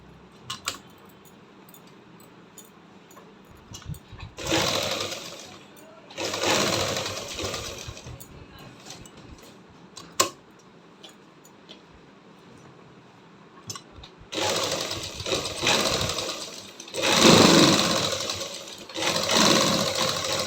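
A sewing machine stitches along a halter neck, running in several separate bursts of steady whirring with quiet pauses between them, and no voices alongside.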